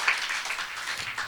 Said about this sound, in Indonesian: Sekarang beri tepuk tangan.